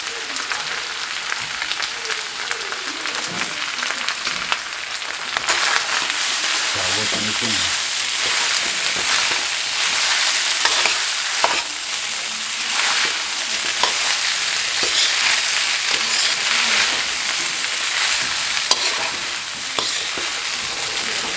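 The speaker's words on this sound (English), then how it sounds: "I'm frying it." Steady, loud sizzling of leftover rice frying in oil in a hot pan for Spam and shrimp fried rice, a continuous crackling hiss with occasional stirring scrapes and no talking.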